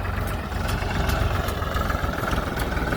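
A tractor's steady, rumbling diesel engine idles nearby, a continuous low chugging drone with no pauses or voices.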